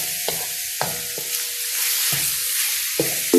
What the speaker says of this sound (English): Now I'm going to mix in the garlic